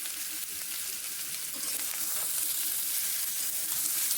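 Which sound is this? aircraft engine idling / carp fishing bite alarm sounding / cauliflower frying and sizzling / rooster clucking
cauliflower frying and sizzling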